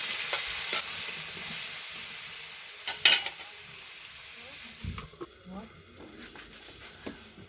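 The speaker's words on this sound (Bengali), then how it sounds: "বেগুনটাও লাল লাল করে ভেজে নেব হালকা লবণ দিয়ে" Diced eggplant fries with a little salt in a pan, hissing steadily at first with a couple of louder stirring clatters, then the sizzle thins out and quiet scrapes and small knocks remain.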